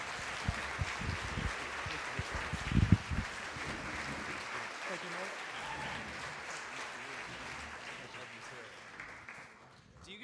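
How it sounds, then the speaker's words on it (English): A gathering of people bursts into sustained applause that fills the space, with a few louder claps and voices near the start, then slowly thins out and fades toward the end. "Applause, that was amazing"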